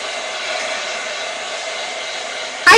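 A hair dryer blows steadily and loudly on a mixed media craft piece, a continuous broadband whoosh holding level throughout before a brief louder burst at the very end.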